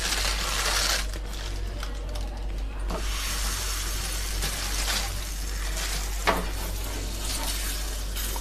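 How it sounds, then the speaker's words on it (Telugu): Bhakshyam flatbread frying on a hot pan, a soft continuous sizzle with faint scrapes and a small clink, low hum beneath, fairly quiet throughout. "ఇప్పుడు పెనం వేడయ్యిందండి భక్షం వేసుకున్నాము"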